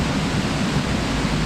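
Broadband rushing roar of a waterfall, loud and steady throughout with no break, heard alone without voices.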